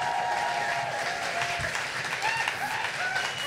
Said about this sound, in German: ein Riesenapplaus für alle 8 Slammer noch einmal